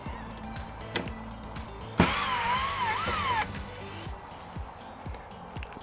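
A power drill runs in one steady burst of about a second and a half, its motor pitch wavering as it drives screws in and out of a plastic shed window, amid faint ticks and handling noises.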